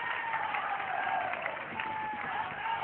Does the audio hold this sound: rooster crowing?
no